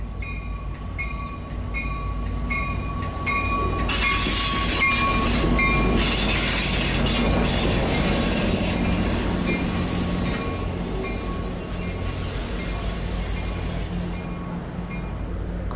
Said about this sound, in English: The train is coming into the station now with its headlights blazing.